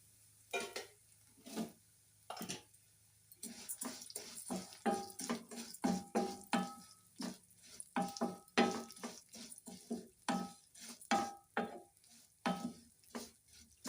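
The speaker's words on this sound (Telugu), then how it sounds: "ఇప్పుడు సేమియా వేయించుకుందాం" Vermicelli frying in a pan for semiya payasam, heard as close, repeated scraping stirs with a soft sizzle underneath that grow busier and more rhythmic as the strokes go on, with no voices.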